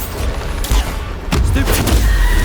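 Bombarda spell blasts in the Hogwarts Legacy video game, loud booming bursts with broadband crackle that land in quick succession over a dense background of combat noise.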